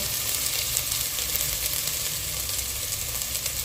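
Garlic, ginger and crushed coriander sizzle loudly in hot oil while being mixed for Punjabi kadhi pakora, a dense continuous crackling fry close to the pan, with no voices.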